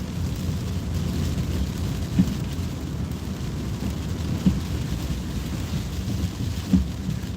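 Steady rain falls in a dense hiss while deep thunder rumbles underneath, with three soft thumps spaced a couple of seconds apart, a continuous outdoor storm with no one speaking.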